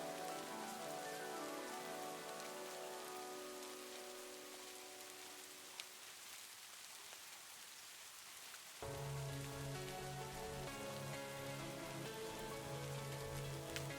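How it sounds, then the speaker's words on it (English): Steady rain patters on a surface throughout, a dense even wash of drops that continues alone with no voices. "the sound of rain is so soothing"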